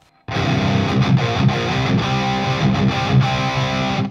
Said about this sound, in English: it starts to create something distortion like a very old rat distortion